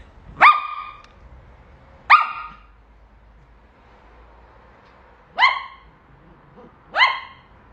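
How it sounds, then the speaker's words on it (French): Four sharp dog barks, widely spaced and fairly close, with clear pauses between them and no talking. "Tu m'aboies dessus."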